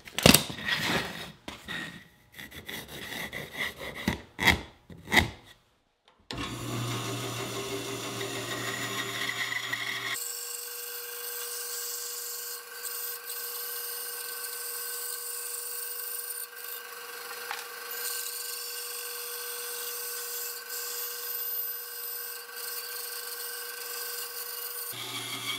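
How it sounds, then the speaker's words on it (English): A bandsaw cutting a wooden spoon blank: a bright, sustained rasping whine that runs steadily for about twenty seconds, preceded by a few sharp knocks and handling clatters of the wood against the table. "I'm going to stick with the bandsaw for just a little bit longer"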